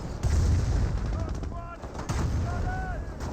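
Gunfire and explosive bursts from a Company of Heroes 1 battle, a Firestorm flamethrower vehicle attacking an anti-tank gun, with dense rumbling impacts and crackling shots running continuously, mixed with game effects.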